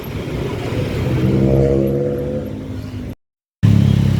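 A car pulls away gently from a traffic light, its engine a low rumble that rises steadily, with a brief silent gap before a louder steady drone returns.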